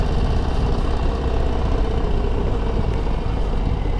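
A 2025 Harley-Davidson Low Rider ST runs with a steady, loud, close engine rumble and dense low vibration that barely changes through the whole stretch.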